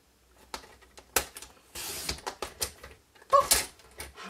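A paper trimmer cuts a strip of cardstock, close and quiet: a series of sharp clicks and short scraping slides as the blade runs along the paper, with pauses between.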